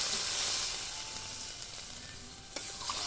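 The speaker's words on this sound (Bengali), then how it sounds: "তরকারিটা কষানো হয়ে গেছে, জল দিয়ে দিচ্ছি আমি।" Water poured into a sizzling fish and eggplant curry, a loud hissing sizzle that eases gradually, followed by a single sharp clink against the pot.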